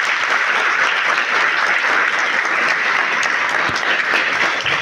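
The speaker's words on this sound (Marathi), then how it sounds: "एकदा अनिल दीक्षित सरांसाठी जोरदार टाळ्या" A crowd at a school farewell ceremony gives loud, sustained applause for teacher Anil Dixit; dense, even clapping fills the whole stretch without a break.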